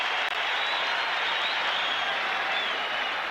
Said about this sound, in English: the crowd gives Kareem an ovation for his hustle